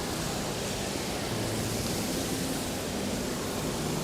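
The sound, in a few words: indoor waterfall in a shopping mall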